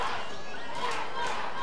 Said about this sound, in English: a swinging strike as the crowd picks up the chant of "Let's go Ducks."